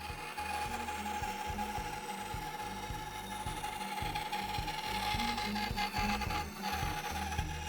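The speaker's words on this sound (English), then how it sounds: "I thought I would make a wavy cut in 1-inch thick ash." Wooden band saw cutting a wavy line through 1-inch-thick ash, a steady loud mechanical drone with a rhythmic low pulsing and constant high whine, no talk throughout.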